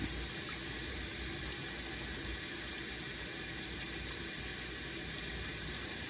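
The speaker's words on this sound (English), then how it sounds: "I'm going to start with just running the nib under the water to try and get some of the ink out." Tap water runs over the nib of a Lamy 2000 fountain pen in a sink fitted with a drain strainer, a constant even rush of water up close without pauses.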